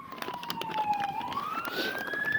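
A wailing siren sweeps down then rises again, loud and continuous over rumbling traffic noise.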